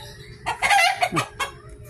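A chicken clucks and squawks up close in a short agitated burst of calls, with faint background noise.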